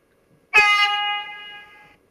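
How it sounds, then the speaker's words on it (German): The low signal horn of an H0-scale model BR 193 Vectron electric locomotive in FlixTrain livery sounds one close, clear, buzzy tone. It blares suddenly, then sustains and tapers off over about a second and a half. "Eine weitere Soundfunktion ist das Signalhorn tief."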